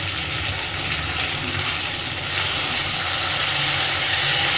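Split green chillies dropped into a hot pan for prawn curry, setting off a loud, steady sizzle and hissing spatter that briefly flares and then settles into continuous frying noise.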